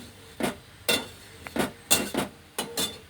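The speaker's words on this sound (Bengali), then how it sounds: "দেখুন কড়াই বসিয়ে দিয়েছি" A metal wok (kadai) is set on a kitchen stove, giving several sharp metallic clanks and knocks in an uneven rhythm, close and fairly loud with no talking.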